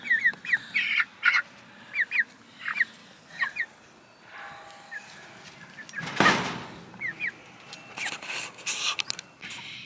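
Chickens being moved into a chicken tractor cluck and squawk in short scattered calls, with a loud burst of flapping and rustling midway and clattering toward the end.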